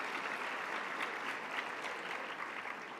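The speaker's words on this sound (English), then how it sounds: "Let's give her another round of applause" An audience at a women's luncheon applauds, sustained dense clapping at a moderate distance, steady and unbroken.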